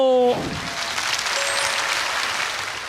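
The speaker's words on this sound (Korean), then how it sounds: "박수 주시기 바랍니다" A studio audience at a televised trot music stage show breaks into sustained applause, a steady wash of clapping that follows a brief sung or spoken tone at the start.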